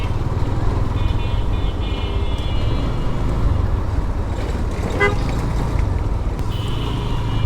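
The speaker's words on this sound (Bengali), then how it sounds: "আমার এই হর্ন দিয়ে এটা হবে না হর্নটা চেঞ্জ করতে হবে" A GPX Demon motorcycle's horn gives a few short, thin toots that barely rise above loud, steady engine and road rumble.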